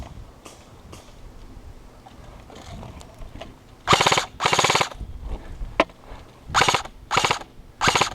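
Airsoft gunfire in an outdoor skirmish: several rapid full-auto bursts of sharp clicking shots, close and loud, separated by quieter stretches of faint background noise.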